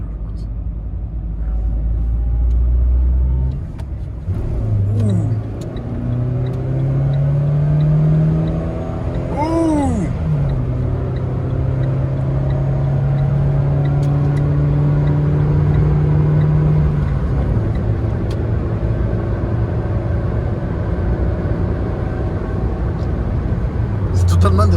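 Renault Twingo 2 accelerating hard, a steady engine drone rising in pitch through the gears with a brief rev swoop, heard from inside the car under continuous talk.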